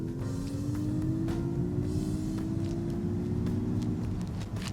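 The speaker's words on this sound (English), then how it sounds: "the MX-30 mimics what sounds like a petrol engine" A Mazda MX-30 electric car produces a synthesized petrol-like engine hum, a continuous steady drone with a tone that slowly rises in pitch, heard from inside the cabin with no talking.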